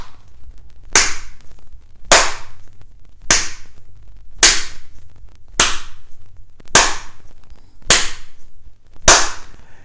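Dry, hollow slaps struck on the sole of the foot during a Qigong exercise, nine sharp cracks spaced evenly about a second apart, loud and close with short decays and no speech.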